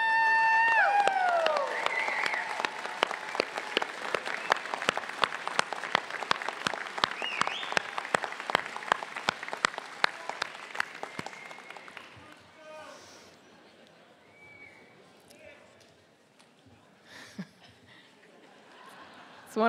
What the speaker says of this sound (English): give them a big round of applause and thank them